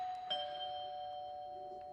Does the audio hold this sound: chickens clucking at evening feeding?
no